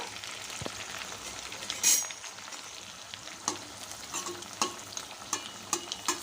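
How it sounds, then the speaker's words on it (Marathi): Poha vadas frying in hot oil, a soft, steady sizzle under scattered sharper crackles, spoon clicks and scraping as the pieces are moved around in the pan. "तर चला आता आपले वडे आपण तळून घेऊया मस्त ब्राऊन कलरचे होईपर्यंत बघा तेल गरम आहे"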